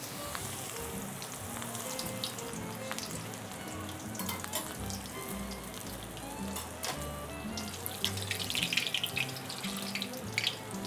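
Battered cilantro fries in hot oil like tempura, giving a dense, continuous sizzle that carries steadily throughout, with occasional louder crackles and faint kitchen clatter underneath.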